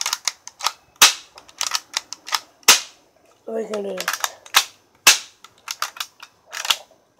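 Repeated sharp cracks of a BB gun being fired, a dozen or so quick snapping shots spread unevenly over several seconds, close and loud, with a brief spoken phrase in the middle.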